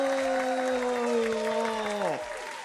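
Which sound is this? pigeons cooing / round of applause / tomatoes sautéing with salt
round of applause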